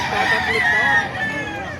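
A rooster crows loudly and close by at a chicken market in Baliuag, Bulacan, one drawn-out call over a busy background of other birds.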